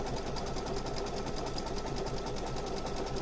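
A sewing machine stitching a patch held in its built-in embroidery frame, running as a steady, rapid, continuous needle whir close by, with no talking.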